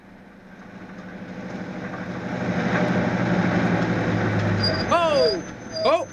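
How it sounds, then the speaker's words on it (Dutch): An old car's engine rumbles in a radio play, building from a low idle to a steady drone before a voice calls out briefly near the end. "Zet de motor maar af."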